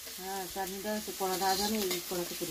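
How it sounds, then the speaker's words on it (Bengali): Meat is dropped into a hot kadai and sizzles, a hissing fry sound under a voice talking through it. "আর আমি সেদিকে কড়াইতে মাংসটা বসাবো, কড়াই বসানো আছে, মাংসটা বসিয়ে দেবো।"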